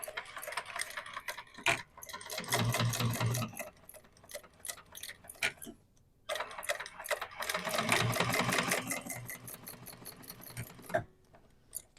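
A sewing machine stitches the seam of a John Duffel bag, running in two close bursts with a rapid ticking needle rhythm, separated by short pauses and soft handling noises.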